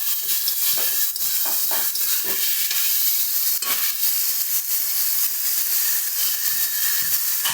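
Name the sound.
stirring fried potatoes into chicken mince ghugni in a pan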